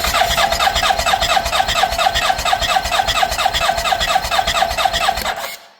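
Honda engine cranking over in a steady, rapid, rhythmic churn with a squealing rasp, loud and close, running about five seconds before stopping abruptly.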